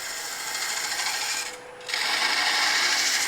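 A knife carving a small wooden mushroom, riding the bevel on its side for fine cuts, makes a steady rasping scrape that pauses briefly midway and then resumes, close and fairly loud with no talking.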